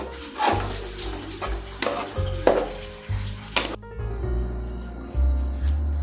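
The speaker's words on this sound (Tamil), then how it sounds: "சேர்த்துட்டு அப்புறம் ஸ்லோவாக மிக்ஸ் பண்ணிக்கோங்க" Bread halwa stirred slowly in a pan over low flame, a series of scraping strokes and dull utensil knocks against the pan with a soft sizzle beneath, close and intermittent.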